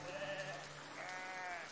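Sheep in the video game Foundation bleat faintly, with one long wavering bleat followed by a second, in a quiet setting.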